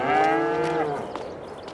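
A cow moos in the farming game Farming Simulator 22 on a Missouri farm, one long, fairly faint low call that bends downward, with soft clanking and ambient farm noise around it.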